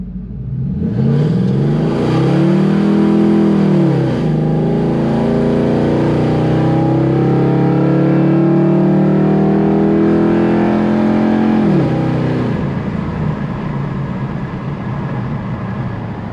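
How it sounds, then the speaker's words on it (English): A Ford Crown Victoria with a 7.3L Godzilla V8 swap roars loudly through a burnout and a hard pull, the engine note rising and falling before settling into a sustained high drone, no voices. "So 0 to 50 is a burnout, and then I got up to 80 or something."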